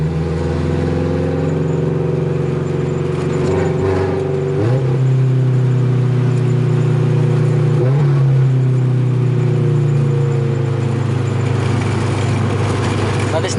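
A car engine with its throttle stuck open drones at high, steady revs while the vehicle runs in neutral, a loud continuous hum whose pitch dips and wavers a few times as someone talks over it.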